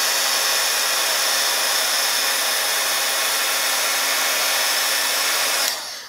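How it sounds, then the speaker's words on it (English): Heat tool blowing hot air to melt gold embossing powder on cardstock, a loud steady hair-dryer-like whoosh that runs evenly for about six seconds before switching off. "All right, hit it with your heat tool. This is our gold embossing powder."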